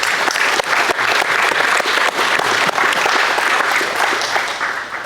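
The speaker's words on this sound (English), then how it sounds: "a round of applause for everyone here and for our community" A museum history night audience gives a sustained round of applause: dense, even clapping from a full room that holds steady for several seconds, then begins to thin out toward the end.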